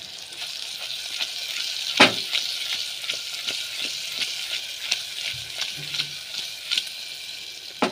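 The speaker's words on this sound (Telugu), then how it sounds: "ఒక 2 మినిట్స్ మగ్గనివ్వాలి మంచిగా." Small fish simmer and fry in a pan in a steady, dense sizzle, with occasional soft clicks and one sharper knock of a utensil; close, continuous and without voices.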